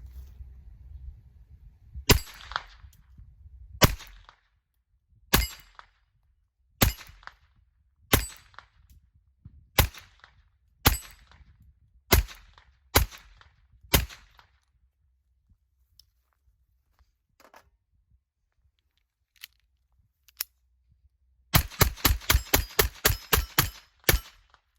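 Ruger LCP II .22 LR pistol firing Fiocchi standard velocity ammunition outdoors, about a dozen sharp, evenly spaced single shots, a quiet gap, then a rapid string of shots in quick succession.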